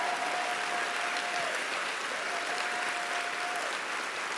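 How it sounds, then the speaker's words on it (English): Steady, sustained applause from a large audience at an author's award ceremony, an even wash of many hands clapping throughout, with a faint high tone audible in the background. "I mean, for Christ's sakes, clap."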